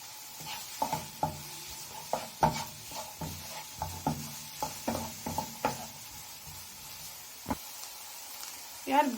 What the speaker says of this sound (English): Then we simmer for like 2 minutes.